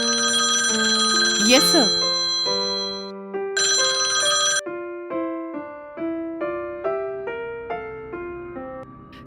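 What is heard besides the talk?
telephone ringing at a police station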